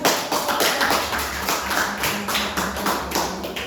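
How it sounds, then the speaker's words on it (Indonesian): A seventh-grade classroom full of people claps in a steady, scattered patter for several seconds, moderately loud and close, with no talking. "tepuk tangan"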